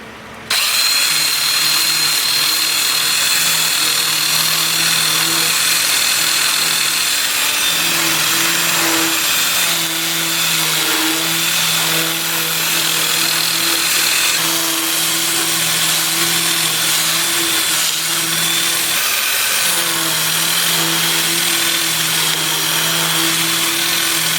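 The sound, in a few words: wood lathe spinning in reverse, sanding with 2-inch disc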